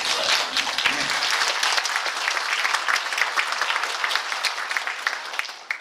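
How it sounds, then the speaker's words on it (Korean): Steady, dense applause from an audience at a provincial briefing session in Yangyang, Gangwon, many hands clapping loudly and continuously for several seconds without a break. "박수를 더 세게 치더라고"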